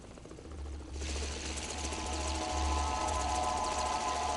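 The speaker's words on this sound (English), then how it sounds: "An RC helicopter with a gun on it." A small RC helicopter with a gun mounted on it in the video game Dead Rising gives off a steady motorized whirring drone that swells after the first second, then stays close and level with no voices.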